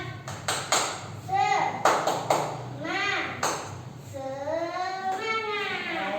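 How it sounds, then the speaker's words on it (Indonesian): In a classroom, children perform a tepuk semangat, a rhythmic clapping cheer. Short bursts of sharp, close claps alternate with children's chanting voices in a bouncy, patterned rhythm. "kita kasih tepuk semangat ya"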